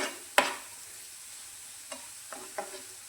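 Spices sautéed in hot oil in a pan over a low gas flame for a yogurt tadka: a sharp scrape of a spoon against the pan, then a few faint stirring clinks over a soft, steady sizzle.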